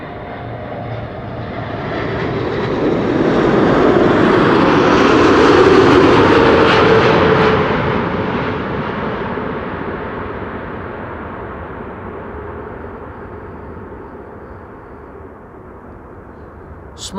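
A Boeing 747 cargo jet roars past close by as it lands at Amsterdam Schiphol Airport, its engine noise swelling to a loud peak and then slowly fading away.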